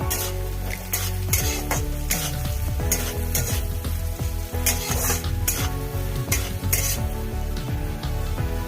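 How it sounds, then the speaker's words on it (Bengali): Vegetables fry in a pan with turmeric for flattened rice pulao, a loud continuous sizzle broken by frequent sharp clinks and scrapes of a spoon stirring against the metal. "সবজিগুলো হালকা ভাজা হয়ে গেছে। এবার ছোটো চামচে 1 চামচের মতন আমি হলুদ গুঁড়ো দিয়ে দিলাম।"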